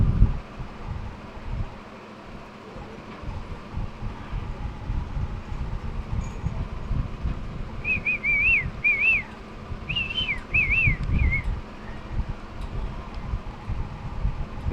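Outdoors at a temple gathering, a person whistles a few short wavering phrases in bursts, moderately distant, over steady rumbling wind and crowd noise.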